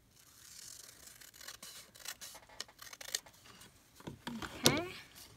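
Scissors snip through paper for a small Valentine-themed junk journal, a run of quiet, close, irregular cuts and rustles, with a voice speaking softly near the end.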